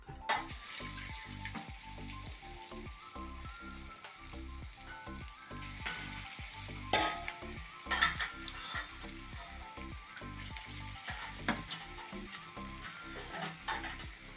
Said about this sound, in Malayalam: ഓയിൽ ചൂടായി നമുക്കിനി വട ഇട്ട് കൊടുക്കാം